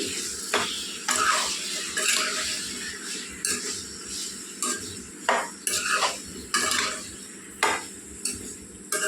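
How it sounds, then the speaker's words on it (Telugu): Brinjal and drumstick curry being stirred in a pan with salt and turmeric: repeated scraping strokes and light clinks of the spoon against the pot over a soft, steady sizzle, with no talking. "ఉప్పు పసుపు వేసుకోవాలండి, కలుపుకుందామండి"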